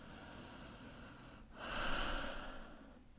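One slow, deep breath during a yoga pose, a soft exhale and then a fuller, louder inhale through the nose, close and quiet with no other sound.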